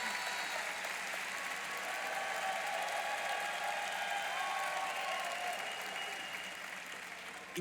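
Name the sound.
church congregation applause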